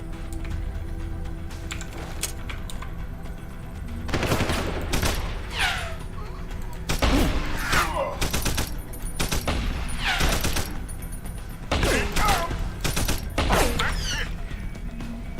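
Enemy shotguns in Deus Ex: Human Revolution fire in a ragged run of loud, sharp blasts, some stacked close together, with a low room rumble underneath and no voices.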